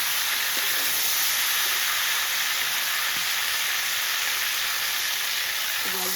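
Water poured into a hot pan while cooking raw green banana hisses and steams in a loud, steady broadband wash that holds for several seconds with no talking.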